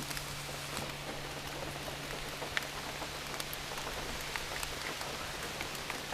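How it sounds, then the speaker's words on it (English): Heavy rain pours down steadily outside an open door on a Kentucky day, a dense, even hiss of drops with occasional sharper splatters close by and a faint steady hum underneath, no voices. "I had to open the door because it's pouring down raining."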